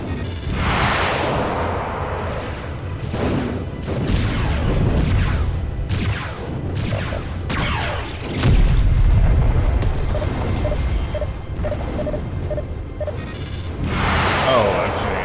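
Space battle in Freespace: Between the Ashes, with continuous booming weapons fire and explosions rolling under radio chatter and a player talking, dense and loud throughout.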